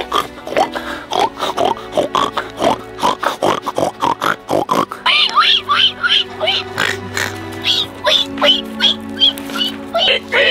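People imitate a pig's kiss and oinking in an outdoor setting, a run of short snorting grunts and squeaky smacking sounds that repeat rapidly and loudly, with talk mixed in among them.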